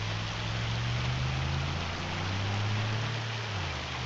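Steady rain falls outdoors on a rural property with gravel and mud, a dense continuous hiss with a low rumble beneath it, unbroken and even throughout with no voices.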